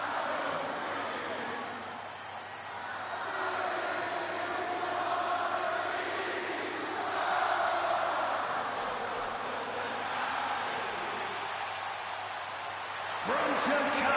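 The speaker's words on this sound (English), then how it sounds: "Just listen to this ovation for the Second City Saint." Crowd ovation for CM Punk in the WWE 2K26 video game, his hometown Chicago arena crowd roaring continuously for about fourteen seconds, loud and sustained with swells, no talk over it.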